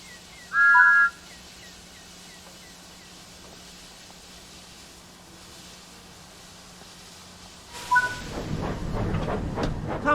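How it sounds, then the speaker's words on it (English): Thomas the Tank Engine in Train Sim World 5 gives a short bright whistle blast near the start, then quiet running follows before a louder chuffing rumble builds as the engine sets off along the line. "Thomas blew his whistle and set off along the line"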